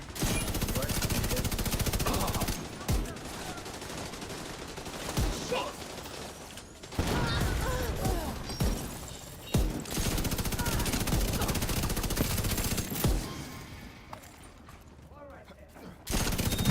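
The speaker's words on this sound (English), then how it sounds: "I also hope they fix the rifle sounds" Rifle fire in The Division, a shooter game: sustained automatic bursts crackle in long, dense volleys with brief gaps, loud and close, while voices talk over the shooting now and then.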